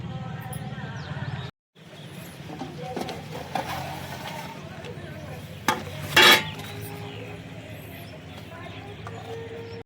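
A utensil stirs the contents of a cooking pot while bagara rice is being made, a steady scraping churn over a constant background bed, with one brief pause and a sharper clatter near the end.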